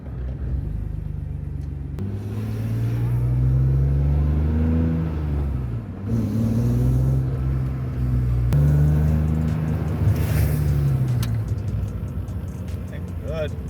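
A BMW E36 M3 drives on a hot day, its engine droning and rising through the gears with steady rumbling acceleration, pitch sweeping up and dropping at each shift, close and loud throughout.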